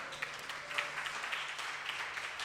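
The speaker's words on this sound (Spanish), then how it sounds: "dándote un aplauso a ti" Congregation applause at the close of a church service, a steady wash of many hands clapping at moderate level throughout, with no voices on top.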